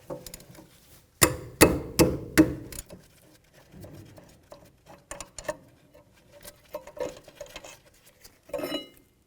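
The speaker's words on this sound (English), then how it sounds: "let's continue on to removing our 2 caliper mounting bolts" Metallic tool clicks and clatter while the two caliper mounting bolts come off the rear brakes of a 1998-2002 Honda Accord: a loud cluster of sharp ratcheting knocks, then scattered lighter taps and clinks, near and with no talk.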